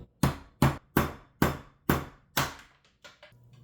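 A chisel is tapped against a black walnut shell to crack it. About six sharp, evenly spaced strikes ring out close by, followed by a few fainter taps, with no talking.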